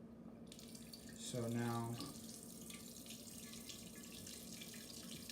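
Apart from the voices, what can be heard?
wort flowing out of valve while brewing stout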